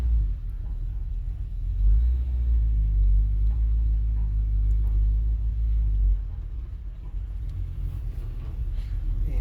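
The engine of a big, high-torque pickup truck rumbles deeply as it maneuvers through a tight spot. The low drone is steady and loud, then eases off near the end.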